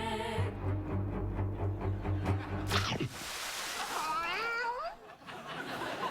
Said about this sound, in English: that cat was not really attacked by a shark